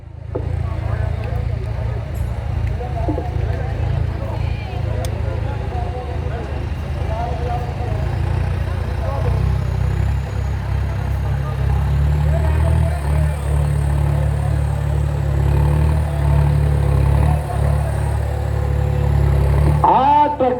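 Tractor engines roaring at a trolley-pulling contest in a village in Fatehgarh Sahib, a loud, steady low rumble with occasional revving that runs throughout, heard under an announcer who talks continuously over a loudspeaker.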